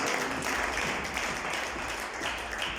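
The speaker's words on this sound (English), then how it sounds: "Can you clap hands for all the teachers in the name of Jesus?" A church congregation clapping for the teachers during a service, a dense steady wash of many hands filling the whole stretch at a fairly even level.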